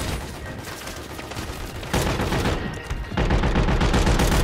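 Rapid bursts of gunfire in the video game Call of Duty, loud and continuous, with a brief dip before heavier automatic fire resumes.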